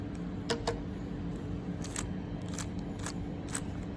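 Soft, quick plastic clicks and clacks come in short clusters, faint and close, as a GAN 13 Maglev speed cube is twisted.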